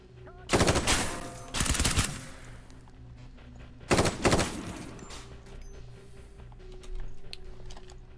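Gunfire in the tactical shooter game Ground Branch comes in three loud, close automatic bursts, each about half a second long, with quieter game ambience in the gaps.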